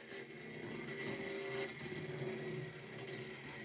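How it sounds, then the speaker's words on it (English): Low, quiet growling hum of a Hornby Class 08 diesel shunter model train engine running steadily, a soft motor drone with slight wavering. "it actually makes quite diesel-y sounds for something that was Hornby Railways made"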